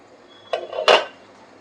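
A metal lid is lifted off a pot of steamed eggless caramel pudding over a low flame, making a short scrape and then a bright clank, close and sharp, in a quiet kitchen.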